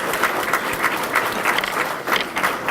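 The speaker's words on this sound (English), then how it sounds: "Let's give Laura a round of applause, please." A banquet crowd gives a scholarship recipient a round of applause at a memorial awards dinner, producing continuous, fairly loud clapping with rhythmic swells from many hands, with no talking.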